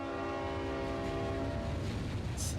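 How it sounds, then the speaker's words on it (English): Train sounds in the video game Nikke: a steady sustained train horn tone over a low rumbling rail bed, fairly faint and without talk. "Sounds of train."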